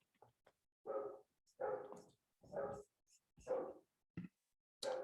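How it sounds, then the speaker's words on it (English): A neighbor's dog barks in the background, about five separate barks at fairly even intervals, each one short and moderately distant, with quiet gaps between them. "Apologies for the dog barking in the background."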